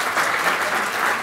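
Audience applause at an informal off-air music chat show, a steady dense wash of many hands clapping, loud and close, holding evenly throughout without voices.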